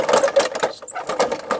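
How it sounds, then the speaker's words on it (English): A John Deere JS63C rear self-propelled walk-behind push lawn mower grinding its gears, a close, loud, rough whirring grind that pulses in short bursts. "Still grinding on the gears."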